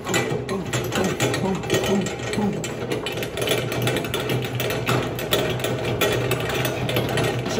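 A hand-cranked honey extractor spins beehive frames and slings honey out, giving a steady close rattling, clicking mechanical whir with a gear-like ratchet texture, heard alone without talk.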